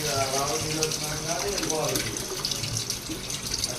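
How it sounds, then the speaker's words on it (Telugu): Water poured from a glass into a pot of country chicken curry, a steady running splash with a continuous gurgling flow lasting a few seconds, close and fairly loud. "ఇప్పుడు మనం కొంచెం వాటర్ వేసుకుందాము"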